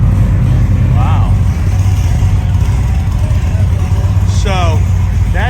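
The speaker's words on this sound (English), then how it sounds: "people hear the exhaust on these bikes" Steady, loud Indian Scout motorcycle engine rumble with a throaty low exhaust drone throughout, overlapped by brief snatches of voices in a busy space at a motorcycle event.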